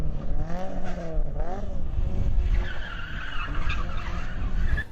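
A Vauxhall Chevette rally car with an open differential skids at a Dunmail Park rallytest, its engine revving and wavering as the tyres scrub and squeal, loud and close.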